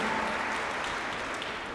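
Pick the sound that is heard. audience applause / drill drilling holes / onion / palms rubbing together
audience applause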